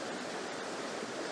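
River water on Dartmoor rushing between leaf-covered boulders past a small cascade, a steady, broad, close hiss of running water with no pauses.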